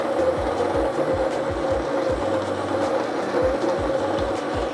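Electric coffee grinder grinding coffee beans: a steady motor whir with a rhythmic, repeating low pulse, moderately loud and continuous.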